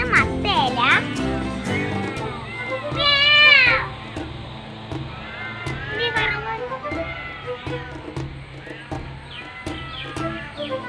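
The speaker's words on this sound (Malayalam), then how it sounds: "ഒരാളിവിടെ പൂച്ചനെ കൈയാട്ടി വിളിക്കുന്നുണ്ട്." A house cat meows repeatedly, drawn-out rising and falling cries close by, with people talking in between and over the calls.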